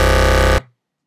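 A buzzy synthesizer tone with a filter cutoff sounds loud and steady, then stops abruptly, leaving only a brief low tail before silence.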